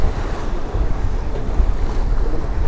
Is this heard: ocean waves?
yes